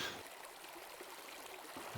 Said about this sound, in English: walking through this little valley with the river on the side ahead of me